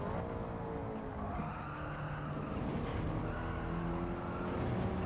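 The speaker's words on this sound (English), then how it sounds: "Just control the back end of the car on the sliding under brakes." A race car brakes hard on a circuit, its tires skidding and sliding under braking over a steady loud engine drone, with a rising whine in the second half.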